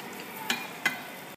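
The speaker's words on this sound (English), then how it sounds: "you're going to cook the onions till it becomes soft" Onions for cream of mushroom soup fry softly in a pan, a quiet steady sizzle with two distinct stirring scrapes partway through.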